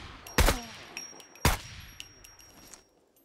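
Gunfire in the video game SCUM: two sharp, loud shots about a second apart, with fainter clanks and a lingering tail between them.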